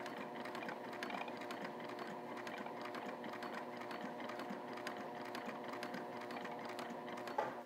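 Sewing machine stitching a seam on a handbag near a welted zipper pocket, a steady fast mechanical whir of needle strokes running continuously and close up with no talking.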